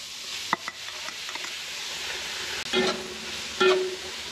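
Sliced jicama stir-fried for lumpiang sariwa, a soft steady sizzle broken by a few sharp clicks and two short bursts of spatula scraping against the pan.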